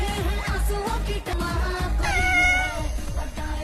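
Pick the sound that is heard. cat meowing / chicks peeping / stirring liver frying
cat meowing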